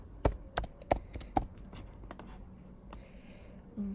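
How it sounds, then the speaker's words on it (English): Keystrokes on a computer keyboard while designing an app page in Figma, a handful of sharp, close clicks spaced irregularly across a quiet room, with a few softer taps in between. "I'm going to click on T on my keyboard and I'm going to type school"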